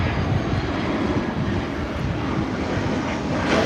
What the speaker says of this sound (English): First up, A320-214 from EasyJet from Edinburgh.